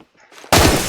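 Battle rifle gunfire in the video game Phantom Forces: after a quiet moment, a sudden loud, dense burst of shots.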